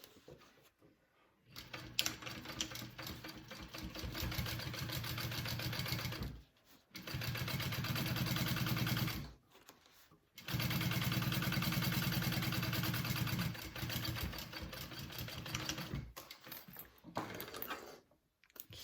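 A sewing machine top stitches a seam on a bowler bag, its motor running in long steady bursts separated by short pauses, loud and close with no talking.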